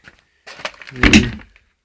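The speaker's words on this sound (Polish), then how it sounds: "Dalej tutaj mamy drzwi" Cab door of a Yanmar YM2210D compact tractor being handled: a soft knock, then a fuller thunk with rattle as the door closes, close and fairly loud, with no talking.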